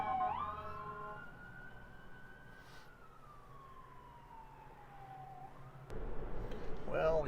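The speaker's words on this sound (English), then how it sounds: "now I hear sirens, and we're all pulling over away from the right edge of the highway" Emergency vehicle sirens wail along a stalled highway, a single rising and falling tone passing at moderate distance, faint beneath traffic rumble, followed by a sharp louder burst near the end.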